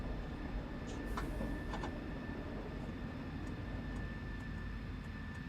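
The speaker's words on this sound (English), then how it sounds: "I can hear your jets going." Jet engines of an aircraft in Microsoft Flight Simulator on a flight from Visby to Hammerfest, a steady, fairly quiet roar with a few thin high whines and faint clicks running over it, no speech.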